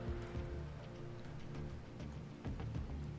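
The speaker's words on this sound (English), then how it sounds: "it's starting to rain as night falls on this raid" Steady rain patters in the RimWorld colony game as night falls during a raid, a constant soft wash of drops with low rumbling underneath and no talking.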